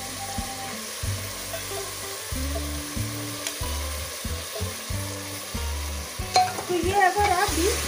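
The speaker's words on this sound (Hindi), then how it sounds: "अब हम इसमें डाल देते हैं ये भीगी हुई चने की दाल।" Soaked chana dal goes into a hot pot and is stirred, giving a constant sizzle broken by repeated scraping strokes of the spoon, close and steady, with no talking.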